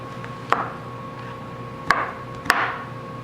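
Three separate sharp knife chops land on a cutting board as white chocolate squares are cut, close by and spaced unevenly, against a quiet steady hum.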